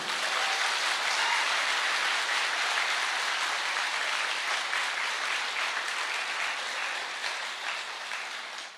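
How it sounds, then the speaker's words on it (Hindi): Loud, dense audience applause at a health awareness program, an even wash of many hands clapping that holds steady and tapers slightly at the end. "तो एक जोरदार तालियां आपके सेहत के नाम पे।"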